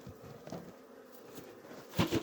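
Honeybees buzzing as a beehive is opened beside another hive; a low, steady hum with brief louder swells near the end, alongside light rustling.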